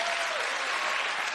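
Steady, dense applause from a live radio show audience, continuous and fairly loud throughout the short stretch with no voices over it.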